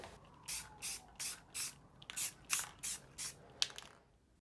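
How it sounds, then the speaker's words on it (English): Espresso-colored spray paint hisses onto blaster pistol grips in about ten short bursts, each a close, sharp hiss lasting a fraction of a second, separated by brief pauses. "To get warmed up, spray the grips with some espresso paint and set them aside."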